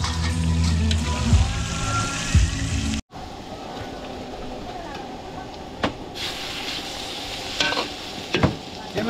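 Chicken fries in a large catering pan in Apalit, Pampanga, hissing and sizzling steadily while a utensil stirs and scrapes in occasional bursts, all near and fairly loud.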